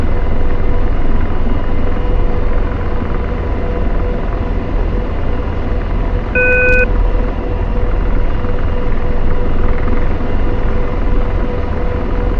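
An AH-64D Apache helicopter in the DCS flight simulator drones with a loud, steady engine and rotor rumble throughout, with a brief electronic warning tone sounding midway and no one speaking.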